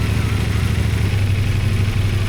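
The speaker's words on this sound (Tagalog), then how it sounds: "Paandarin lang natin doon saglit kahit mga 3 to 5 minutes." CF Moto 450SR motorcycle idling steadily right after an oil change, a close, even low engine drone held throughout with no revving.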